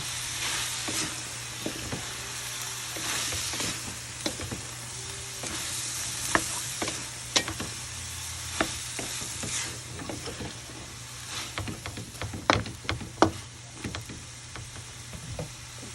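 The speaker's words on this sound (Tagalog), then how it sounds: "Mix natin aking sitaw." String beans fry with garlic, onion and shrimp in a pan, a steady close sizzle broken by scraping stirs and clacks of the utensil, growing busier toward the end.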